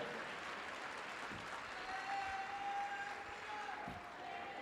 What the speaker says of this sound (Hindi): तारीफ करो ताली बजाकर।